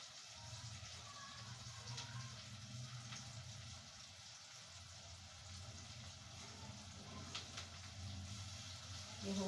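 Water poured into a cooking pot of chopped tomatoes on a gas stove, a steady broadband rush with faint gurgling and a low background hum, continuous at moderate level throughout.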